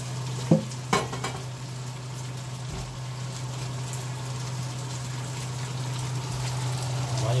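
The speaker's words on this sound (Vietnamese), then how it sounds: "Bỏ vô đây, xào luôn." Pork intestines with turmeric and rice noodles are stir-fried in a pan, making a steady close sizzle over a constant low hum, with a few clacks of stirring near the start.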